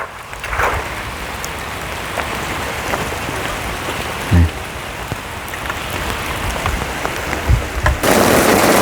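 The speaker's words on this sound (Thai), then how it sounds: "ฝนตก" Steady rain falls on surfaces around a house under construction, a continuous dense patter with a few louder drips and knocks, then a sudden heavier downpour rush near the end; no voices.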